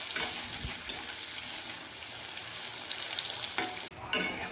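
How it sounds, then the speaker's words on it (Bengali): Diced eggplant, salted and coated with turmeric, frying in hot oil while being stirred, a continuous soft sizzle with scraping stirs and a brief dip near the end. "এবার এগুলোকে তেলের উপর দিয়ে নেড়ে চেড়ে একদম লাল লাল করে ভেজে নিচ্ছি"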